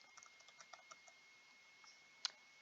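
Light typing on a computer keyboard, a quick run of soft, close keystrokes followed by a brief pause and one sharper final key press, faint and alone.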